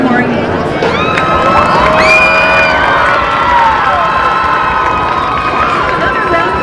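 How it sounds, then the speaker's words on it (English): Loud crowd cheering at a football homecoming court ceremony during a Mt. Juliet vs Lebanon game, with whoops and high shouts over light applause and a voice speaking underneath. "Another round of applause for our football homecoming court."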